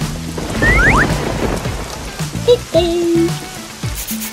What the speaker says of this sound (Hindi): ओह, बारिश हो रही है